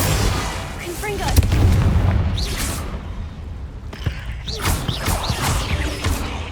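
Confringo fire spell blasts in the wizarding game Hogwarts Legacy, loud booming bursts with crackling debris at about 1.5 seconds, then a fresh burst near 4 seconds trailing into scattered impacts and hissing magic effects.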